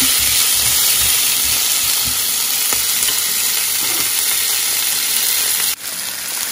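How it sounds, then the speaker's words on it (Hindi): Beef gola kabab sautés in a pan with a loud, continuous sizzle and hiss. Light stirring scrapes sound under it, and an abrupt clatter near the end briefly drops the level. "हमने इसको बहुत ज़्यादा फ्राई नहीं करना, बस सौते करना है"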